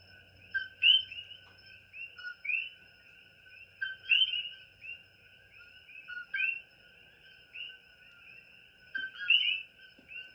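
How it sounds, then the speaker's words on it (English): A pet bird called Sweet Pea chirps in a quiet room, giving repeated clear, high whistled tweets in irregular bursts, close and moderately loud with pauses between. "This bird, I'm pretty sure, actively tries to shit on me."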